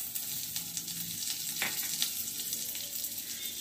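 Curry leaves, ginger and cumin sizzle and crackle in hot oil in a pan while being stirred for a fasting-style upma, a close, continuous frying hiss with no voices.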